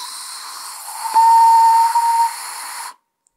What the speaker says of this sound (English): hear how the whistle comes out?